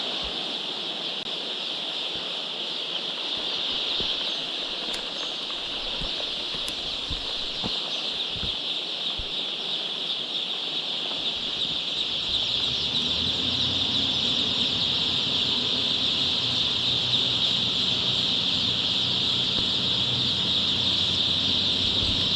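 Two-day-old chicks in a poultry aviary keep up a steady, dense chorus of high peeping, with a low rumble joining partway through and continuing under the chirping.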